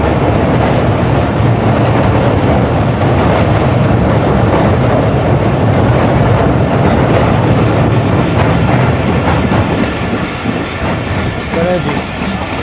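A passenger express train crosses a river bridge at night, a loud continuous rumble with steady wheel clatter close by throughout, and faint squeal near the end.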